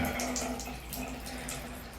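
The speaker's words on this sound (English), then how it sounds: "Next up is to turn this on, and that empties all the water out of all the pipes in the house." Water runs steadily from a household faucet as the house's pipes drain, a close, continuous splashing hiss with no talking.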